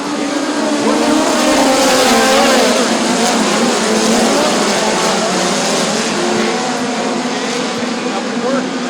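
Midget race cars at a POWRi National Midget League race at Bubba Raceway Park roaring away from a green flag start, a loud, sustained dense engine howl filling the whole stretch.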